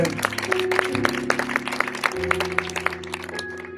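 A church congregation claps along in a steady rhythm, with sharp, evenly spaced claps over sustained musical tones.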